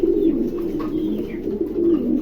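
A pair of fancy Roman pigeons coo close by, with soft, continuous throaty burbling rising and falling over about two seconds and no speech.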